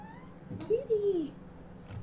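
A cat in the video game Dreaming Mary lets out a single short, rising-and-falling meow, fairly clear against a quiet background.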